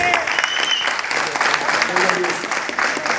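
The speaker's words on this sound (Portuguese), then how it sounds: "Salva de palmas!" Applause fills a conference room, dense and close with steady clapping throughout, while voices talk and call out over it.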